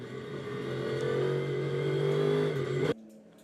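A Ford Mustang GT race car heard onboard during the opening lap of a GT Europe race at Circuit Paul Ricard, a loud, steady, buzzing engine drone holding high revs before cutting off abruptly near the end.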